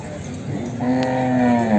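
A buffalo calf about one year old lets out one drawn-out moo that rises in and holds steady, loud and close, against a faint busy background at the Erragadda buffalo market.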